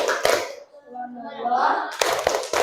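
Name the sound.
classroom children doing the clapping chant tepuk hebat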